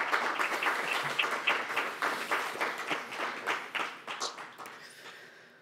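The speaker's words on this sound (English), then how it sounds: "Another round of applause, please." An audience at a poetry reading bursts into applause, a dense, fairly close patter of many hands clapping that gradually thins and fades over several seconds.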